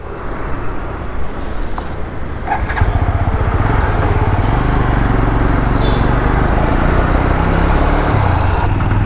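A motorcycle on a ride, picked up through a GoPro Hero 12 mic adapter. The engine is close and loud and rumbles steadily, with wind and road noise over it and no talking.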